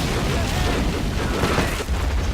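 Artillery shells exploding in a Men of War: Assault Squad 2 battle, a dense continuous rumble of booms with no clear gaps between blasts.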